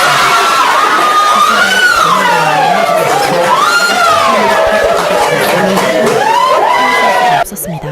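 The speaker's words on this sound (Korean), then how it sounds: "법정이 폭발했습니다. 환호성과 울음소리가 뒤섞였습니다." A courtroom crowd erupts in loud cheering, shouting and crying after a not-guilty verdict, with wailing, rising and falling voices over a dense roar of the crowd, cutting off abruptly near the end.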